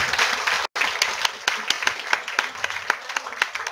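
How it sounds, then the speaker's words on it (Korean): A church congregation claps to welcome a pastor to the pulpit. The applause is full and lively, with crisp individual claps standing out, and it breaks off for an instant before carrying on strongly. "박수로 환영하시겠습니다"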